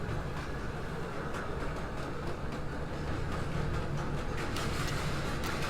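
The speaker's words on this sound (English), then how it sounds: "This game makes real good use of its train tracks sound effect disc, doesn't it?" Steady rumbling train-track loop from a video game, a continuous broadband clatter and hiss with faint rhythmic ticks, heard alone at a constant moderate level without speech.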